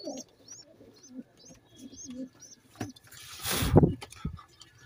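Green Madras pigeons in a home loft coo in a steady series of soft, rounded calls, each about half a second apart, with a brief flutter or bump of movement near the end.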